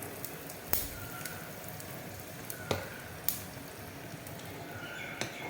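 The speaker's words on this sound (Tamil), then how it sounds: "கடுகு வந்து போட்டுக்கிறேன்." Mustard seeds and asafoetida sizzle in hot oil for a tempering, a steady close crackling hiss broken by a few sharp pops from seeds bursting, with no talking.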